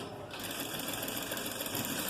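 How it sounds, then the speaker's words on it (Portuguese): A sewing machine stitching fabric for a garment piece, running steadily and close by in a continuous, even mechanical whir with rapid needle ticking throughout. "eu sempre costuro onde eu marquei."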